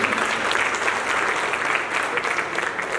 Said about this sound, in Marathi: दोघं जावयाच्या या सुंदर विचारांसाठी जोरदार टाळी होऊन जातो